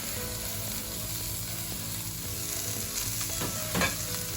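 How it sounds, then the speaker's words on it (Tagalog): Onions and mushrooms sautéing in a dry pan with no oil for Korean japchae, giving a steady, close sizzle with occasional stirring scrapes and a louder clatter near the end, no talking. "i-saute lang po natin ang mga onion. And then, mushroom"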